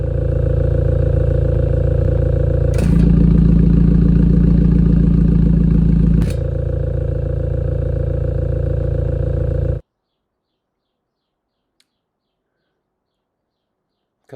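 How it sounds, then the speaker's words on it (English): A 2015 Mini Cooper S John Cooper Works with a switchable valved exhaust idles loudly up close. The tone shifts to a deeper pitch for a few seconds, then the engine cuts off abruptly, leaving silence. "it's got the switchable Bluetooth valved exhaust"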